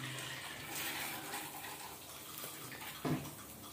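Water streams steadily from a Panasonic DH-3JL2 water heater shower, a continuous broadband hiss with a brief louder splash near the end.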